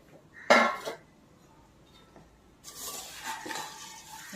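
Metal spoon scraping and clinking against a pan while fried poha chivda is tossed, a sharp clatter near the start, then a softer rustling stir a little later.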